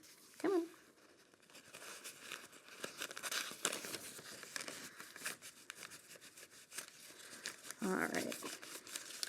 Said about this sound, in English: You probably need a couple paper towels to complete the whole thing here.